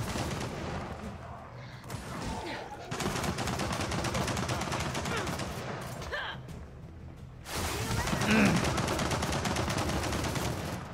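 Turret gunfire in a video game battle comes in dense rapid bursts with brief pauses between them, loud and continuous, with mechanical clatter mixed in.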